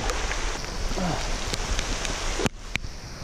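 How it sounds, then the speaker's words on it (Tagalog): Steady heavy rain hisses across the whole clip, a dense broadband wash with occasional sharper drops, fairly close and loud, no voices, during a spearfishing outing. "Lakas na ng ulan."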